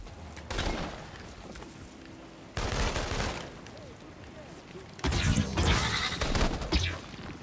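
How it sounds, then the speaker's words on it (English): Gunfire in the video game Infamous Second Son: three loud bursts of shots and impacts, each lasting a couple of seconds, with a steady background rumble in the gaps between them. "I'm just still getting shot up."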